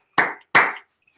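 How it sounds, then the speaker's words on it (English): Two sharp, close hand claps ring out about a third of a second apart, each with a short decaying tail, followed by silence. "can we give a huge round of applause for Marian Lipa?"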